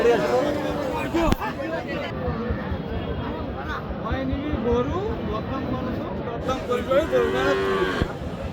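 A cow moos loudly at a busy cattle market in Dinajpur where dairy cows with calves are sold, its low call rising over constant crowd chatter and nearby talk.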